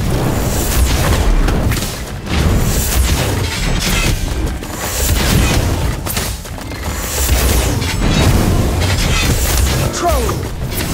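A fire spell cast in the mobile game Harry Potter: Magic Awakened, a dense burst of booming, crackling blasts that roars loud and continuous with faint voices in the mix.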